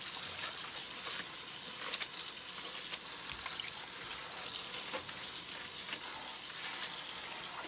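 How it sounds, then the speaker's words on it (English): A kitchen tap runs steadily while collard greens are scrubbed and rinsed beneath it, a constant broadband hiss of water with small splashes and rustles, close and without talk. "I'm going to take them and I'm just going to clean it. I'll just kind of scrub them really well."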